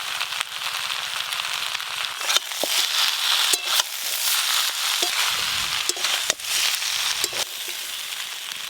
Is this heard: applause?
no